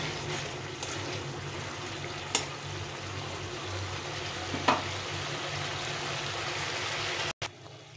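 A thick jaggery chutney with tomato bubbles and sizzles steadily in a pan as the jaggery cooks down, with a couple of faint clinks of a spoon.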